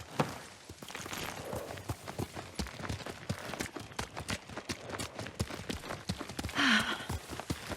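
Horse hooves trot in Ghost of Tsushima, a steady clip-clop of hoofbeats close by that runs through the whole stretch, with soft ambient noise and a brief high tonal sweep near the end.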